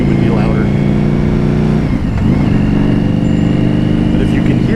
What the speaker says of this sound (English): The sound of this bike is amazing.